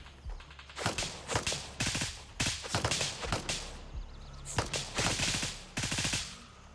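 Gunfire in the video game Gray Zone Warfare comes as rapid bursts of automatic shots in uneven clusters, loud and near, with short pauses between volleys.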